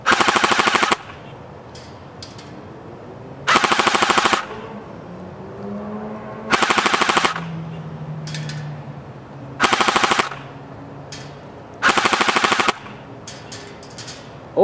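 A Cyma CM028 RPK airsoft gun fires five loud fully automatic bursts, each about a second long and evenly spaced, with quiet pauses and faint background noise between them.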